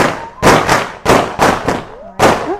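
Diwali firecrackers burst in a rapid string of sharp, loud bangs, about five close cracks with short echoing tails, with voices calling out between the blasts.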